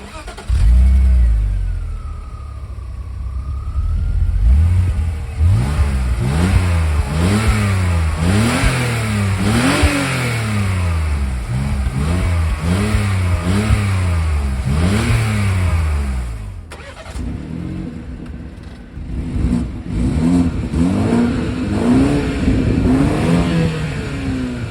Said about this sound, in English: let's have a quick little startup and rev test